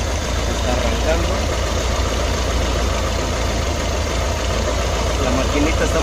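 A Volkswagen Kombi or Beetle engine idles steadily after being started, its tired motor running with a constant low rumble, loud and close throughout.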